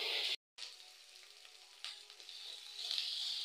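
Cinnamon, cloves and cardamom sizzling in hot oil in a pan, a steady bright hiss that briefly drops out, then surges again as ground spice pastes go in, close and with no voices.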